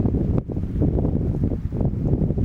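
Steady wind blows across a beach with a continuous rumbling gust noise pressing on the microphone, loud and close throughout with no talking.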